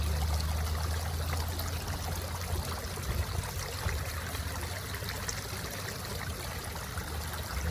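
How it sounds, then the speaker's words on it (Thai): Water streams and trickles steadily out of a fishing net as it is lifted, a dense continuous pour at close range with a low rumble underneath and no talking. "เสียงน้ำออกมาแล้วหรอ"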